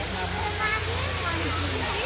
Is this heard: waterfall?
yes